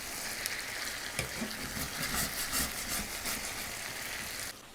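A budget weeknight meal sizzles steadily in a frying pan while being stirred, with a bright constant fry hiss and soft scraping bumps throughout.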